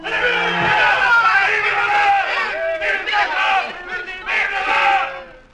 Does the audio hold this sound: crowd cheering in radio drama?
yes